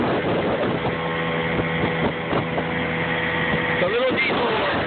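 A small diesel boat engine chugs steadily on a lake, a loud close low drone with wind buffeting the microphone, while someone talks over it.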